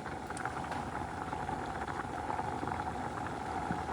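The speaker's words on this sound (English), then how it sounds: "You see that it's boiling." Water at a rolling boil in a cooking pot of rice and pigeon peas, a steady bubbling hiss with small pops that runs evenly throughout at moderate volume.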